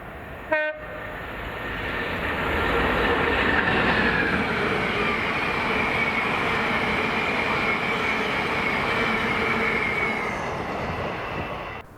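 Class 66 locomotive 66736 hauls 4M01, an empty cement train from Moss End to Carlisle, in Scotland: a long, loud, steady rumble of engine and wagons rolls past close by, opened by a brief horn blast.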